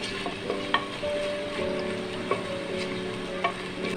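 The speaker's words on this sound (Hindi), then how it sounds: "प्याज को इंशाल्लाह हम फ्राई करेंगे।" Two finely chopped onions frying in a pot for chicken handi biryani, a moderate steady sizzle with scattered utensil knocks and stirring scrapes, close by and without talking.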